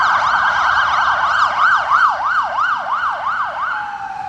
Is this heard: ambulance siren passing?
yes